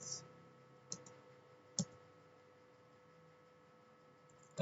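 A few isolated, quiet clicks on a computer keyboard mark Enter presses during console configuration, spaced by near silence.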